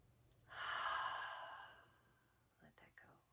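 One slow, audible breath is let out through the mouth during a calm meditation. It is close and soft, lasts about a second, trails off, and is followed by faint mouth sounds.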